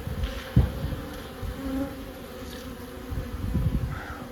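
Honey bees buzz steadily near a hive, a close, continuous hum with occasional louder passes.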